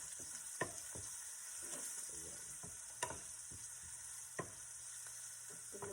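Garlic sautéing in a pan for an omelette, with a soft continuous sizzle and occasional sharp taps of a utensil against the pan, close and quiet.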